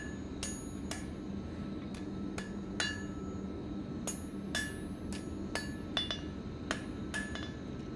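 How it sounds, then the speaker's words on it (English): Steel fire poker tip being hammered over on an anvil edge: a steady series of sharp, ringing metallic hammer strikes at an irregular beat over a constant low background hum. "And then I'm going to bend the tip over. It's going to bend it over itself. I'll do that on the anvil"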